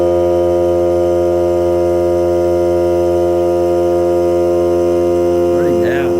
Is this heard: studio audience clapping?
no